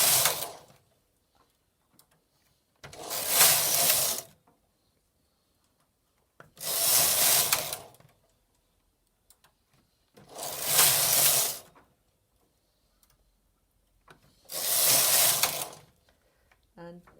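Silver Reed punchcard knitting machine running fairisle rows, its carriage swept back and forth in four long rubbing, whirring passes about every four seconds, with quiet pauses between each stroke.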